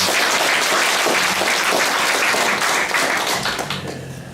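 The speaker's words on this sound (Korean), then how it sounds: "박수 좀 크게 쳐주세요" Sustained audience applause at a town hall meeting with residents of Eunha-myeon, dense clapping from many hands at close range that holds steady, then tapers off at the end.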